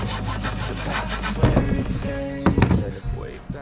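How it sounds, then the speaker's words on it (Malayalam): A saw cuts a 70 cm piece of PVC pipe, with close, raspy rhythmic strokes, a few sharper scrapes and knocks toward the end, and no talking. "ഇനി നമ്മുടെ PVC എടുക്കുന്നുണ്ട്. അത് എടുത്തതിന് ശേഷം നമ്മളൊരു 70 സെൻറ്റിമീറ്റർ നീളത്തിൽ നമ്മളൊരു പീസ് കട്ട് ചെയ്തെടുക്കും."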